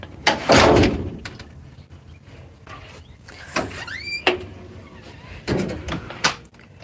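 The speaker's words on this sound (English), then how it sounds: "I hate that back door. The back door needs to be changed." A house's back door being shut: several loud bangs and thumps at irregular intervals with a brief squeak between them, close by in a domestic room, no talk.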